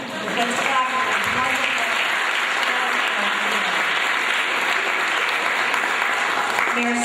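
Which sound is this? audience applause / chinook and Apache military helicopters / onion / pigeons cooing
audience applause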